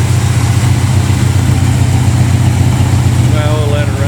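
A 1971 AMC Gremlin with a big-block 496 V8 and tunnel ram runs steadily at idle, a loud, close, continuous low rumble with no break.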